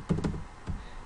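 A few close keyboard keystrokes while Python code is entered, soft thuds in a short burst followed by one more tap, with no talking.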